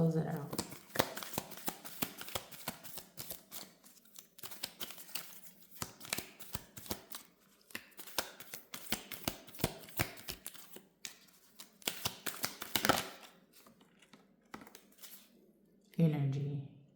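Mushroom or fairy oracle cards being shuffled in bursts of close, papery riffles and slaps, with a soft voice speaking in between.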